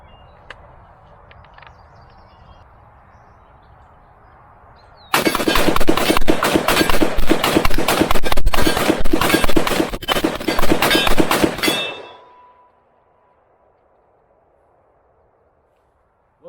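An AR-15 rifle, a PSA build fitted with a scope, empties its magazine in a fast, continuous string of loud shots lasting about seven seconds outdoors, then falls silent, with quiet ambience before and after.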